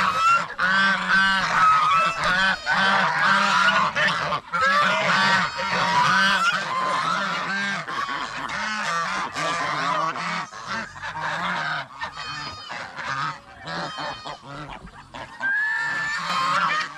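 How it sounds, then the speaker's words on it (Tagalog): Loud, repeated honking of a goose scuffling with a duck, harsh calls in rapid bursts with flapping and squawks, close up. "Pato o, nakipag-away sa gansa."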